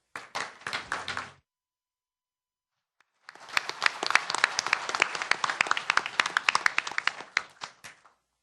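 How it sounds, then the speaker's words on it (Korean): A burst of applause, a brief pause, then a longer, dense round of clapping from an economic forum audience that fades out at the end. "다시 한번 큰 박수를 부탁드리겠습니다."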